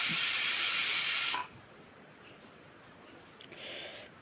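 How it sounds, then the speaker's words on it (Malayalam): A loud, steady hiss of steam blasting from a pressure cooker whistle, cooking raw plantain, for over a second, then cutting off abruptly into quiet room tone. "കുക്കർ വിസല് വരാം ഒരു മൂന്ന് പ്രാവശ്യം വിസല് വരണം"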